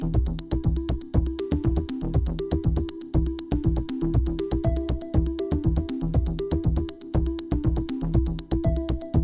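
A driving electronic groove from an Elektron Digitone synthesizer and an Erica bass synth: a pulsing synth bass line with tight rhythmic synth notes and ticking percussion, steady and continuous throughout.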